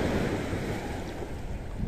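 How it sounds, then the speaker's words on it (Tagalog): Big ocean waves surging at sea, heard as a continuous loud rush of water with heavy wind buffeting the microphone, steady and close with no talking. "laki pa naman ang alon."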